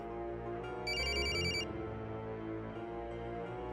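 A telephone rings briefly during a Marathi TV serial scene, its short electronic trill riding over a dense, continuous background music bed.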